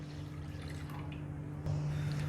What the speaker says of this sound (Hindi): एक पैन में हम 3 कप पानी डाल देंगे